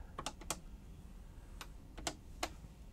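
Keystrokes on a TRS-80 CoCo 1 keyboard typing a CLOAD command: a short cluster of sharp clicks, a pause, then a few more separated taps, close and fairly quiet.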